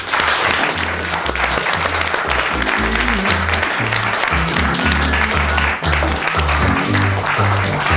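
Studio audience applause for a guest on a talk show, with dense, steady clapping throughout and low music underneath.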